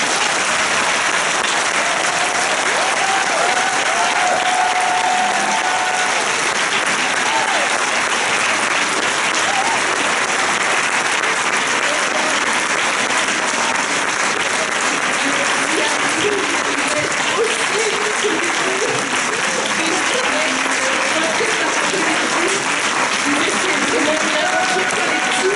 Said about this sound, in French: je prends un tonnerre d'applaudissements pour nos collègues de Rennes